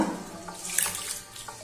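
Soaked rice being washed in water, with close splashing and running water under a faucet sloshing continuously, no talking.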